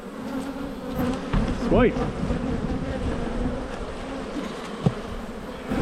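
Honey bees drone steadily around an opened beehive during a hive check, a close, continuous buzz with individual bees whining past; someone speaks a single short word over it.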